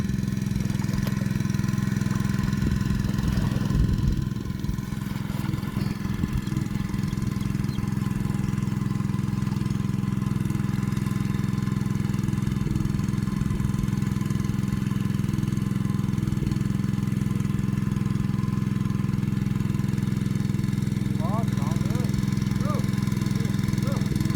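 A water pump engine runs steadily close by with a low, constant droning hum, while faint clatter and scattered small noises come and go over it.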